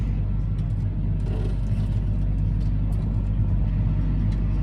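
A car rolls into a village on the way to a sugar beet field, its engine and road noise forming a loud, steady interior rumble with no break throughout.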